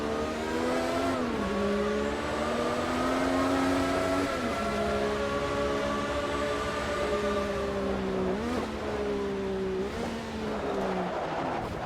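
A turbocharged 1984 Formula 1 car engine in the Automobilista 2 racing game drones loudly and steadily, its pitch climbing through gears with brief dips at shifts, sustained throughout with no talk.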